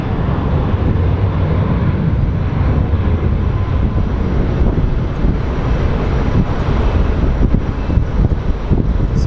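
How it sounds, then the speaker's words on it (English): Spirit Airlines Airbus A320neo jet at Sky Harbor airport, a steady broad roar of engine and rushing air that holds loud and even throughout, heavy with wind buffeting on the microphone. "So this is the A320neo. It's a newer Spirit flight"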